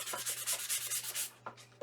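Rhythmic back-and-forth scratching of sandpaper rubbed by hand, about eight quick strokes followed by a couple of slower, separate rubs.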